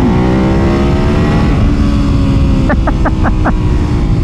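A cruiser-style motorcycle engine drones loud and steady while riding, with a few quick rev pulses near the end.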